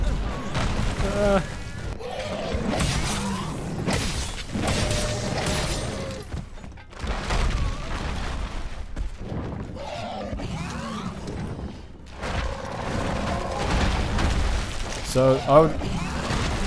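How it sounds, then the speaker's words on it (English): The monster Bazelgeuse in Monster Hunter World drops live bombs that go off in repeated booming explosions and thuds amid game combat, with a player talking over much of it. "He's dropping live bombs!"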